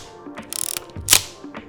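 A Pentax 67 medium format film camera gives a loud mechanical shutter and wind cycle: a quick rapid ratcheting burr, then a sharp clack, heard close with no voices.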